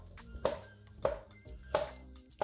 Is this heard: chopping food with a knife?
yes